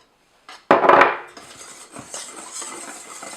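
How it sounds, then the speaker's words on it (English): Cocoa powder whisked in a bowl, opening with a sharp knock followed by quick, light scraping and tapping of the whisk against the bowl. "And my cocoa. I'm going to whisk it up."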